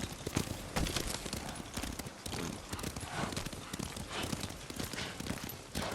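Horse hooves clip-clop steadily as a rider travels on horseback through feudal Japan in Ghost of Tsushima, a continuous close, even gait with no talk over it.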